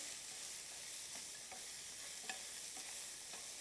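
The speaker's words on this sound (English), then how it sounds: "I got my stuff in my pan. I'm going to give it a quick little stir." Onions fry quietly in a pan while being stirred, a soft steady sizzle with a few light scraping taps from the utensil, fairly faint and with no talking.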